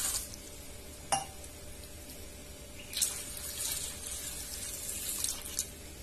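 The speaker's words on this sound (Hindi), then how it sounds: "मैं इसमें 2 ग्लास पानी डाल रही हूँ।" Two glasses of water poured onto mixed lentils in a large pot, a steady soft rush of water with a few splashy surges and occasional clinks.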